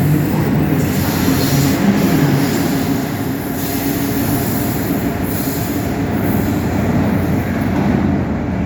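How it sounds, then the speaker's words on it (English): Amtrak regional train rolling through Newark Penn Station, a loud continuous rumble of wheels on rail with steady rolling noise and faint squeals, close and sustained throughout without any talk. "The 135 outbound regional train number 99"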